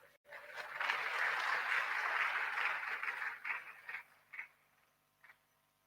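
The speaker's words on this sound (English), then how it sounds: "League members, let's also clap for ourselves because we've done very well." Applause at the Ghana Bar Association annual general conference swells into a steady patter of clapping, then thins out into a few scattered claps before fading.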